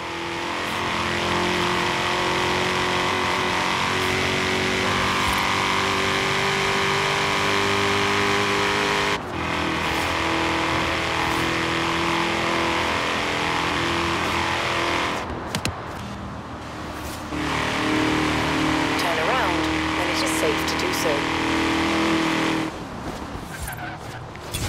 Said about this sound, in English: This Mustang just sounds so nice.